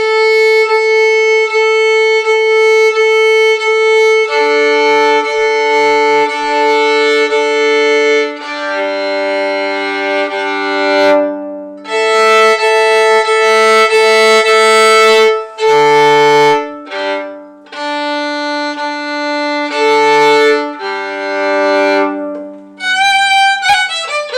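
A fiddle sounding long sustained bowed notes, pausing and shifting pitch as strings are adjusted, with brief plucks near the end.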